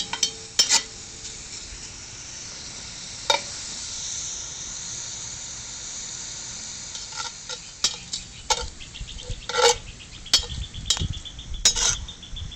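Onions and garlic sizzle steadily in a hot Dutch oven, with intermittent clinks and scrapes of a utensil stirring, growing busier toward the end.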